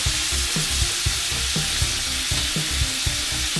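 Shrimp dusted with blackened seasoning hiss loudly in a hot pan as a quick, regular stirring rhythm scrapes across the surface, close and continuous.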